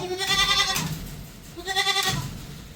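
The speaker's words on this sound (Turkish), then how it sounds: "Əla, qara keçiyə baxın elə." A black goat bleats twice, loud and close, each call a wavering nasal cry with a pause between them.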